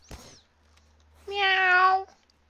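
A person imitates a cat during a tabletop role-playing game session, giving one drawn-out meow up close after a brief soft noise, with quiet room tone around it.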